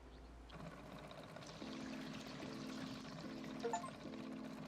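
Water from a hose pours and splashes onto a campfire in a video game, a steady close trickling stream with short pulsing surges, no talk over it.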